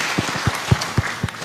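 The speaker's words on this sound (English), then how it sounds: "We appreciate the past moderator with a clap." Sparse, rhythmic clapping from a church assembly plenary, a handful of distinct claps about a quarter second apart over a quiet room.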